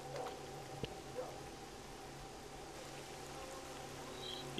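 Steady soft hiss of rain falling, faint and even throughout, with a couple of small clicks and no voices, in the video game S.T.A.L.K.E.R.: Call of Pripyat.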